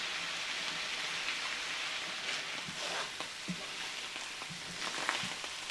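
Potatoes and hot dog wieners fry in a skillet with a steady, soft sizzle and scattered pops and crackles, moderately close, with a few faint clinks of stirring.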